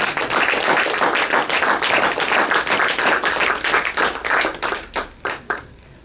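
A church congregation breaks into lively, dense applause that holds steady, then thins into a few scattered last claps that die away at the end.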